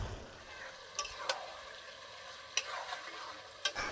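Tomato and green chili go into a frying country chicken curry, a faint steady sizzle under a few sharp spoon taps and clinks spaced about a second apart.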